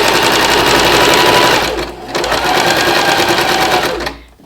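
A sewing machine chain-pieces strips of bias tape, stitching in a loud, steady run that breaks briefly midway, resumes, then stops.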